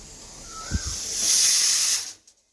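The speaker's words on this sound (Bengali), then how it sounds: "প্রেশার কুকারে অরহর ডাল সেদ্ধ হচ্ছে" A pressure cooker boiling toor dal lets out a loud, steady hiss of escaping steam that swells, holds for a moment, then drops away to silence. A faint low thump comes just before the hiss.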